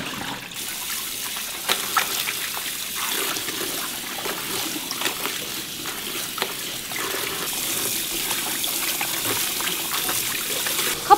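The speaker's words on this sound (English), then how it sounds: "Couple of times you just wash and pour out the water" Water running and trickling from a tap into a sink while salted cabbage pieces are rinsed, a steady close stream with occasional small splashes and clinks.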